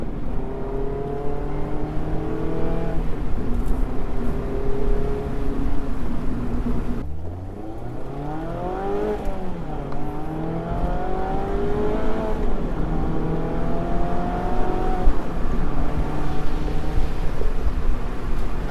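2019 Mazda Miata Club on a suburban drive, engine revving up through gears with rising and falling pitch sweeps, a gear change dip mid-way, steady and close without talk.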